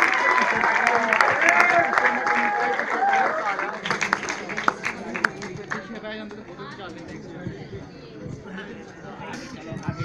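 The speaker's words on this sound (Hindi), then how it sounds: "जोरदार तालियां हो जाए इनके लिए," Audience applause greets guests arriving at a Sony SAB TV show screening event, loud clapping and crowd chatter at first that thins out into scattered claps under ongoing voices.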